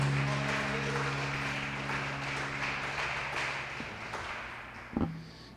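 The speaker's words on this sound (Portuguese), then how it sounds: "Quem ama Jesus, aplauda Ele bem forte." A church congregation at a live service clapping, a faint diffuse patter of hands over a fading sustained organ-like tone, ending with a couple of sharp thumps.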